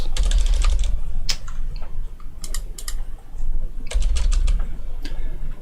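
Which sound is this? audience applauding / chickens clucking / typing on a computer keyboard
typing on a computer keyboard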